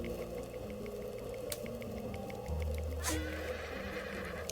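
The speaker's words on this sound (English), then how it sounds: "Yeah, I hear you, horse." A horse in the Rising World game gives a single neigh under a steady droning ambience, moderately loud, with faint clicks and a sharp tap nearby.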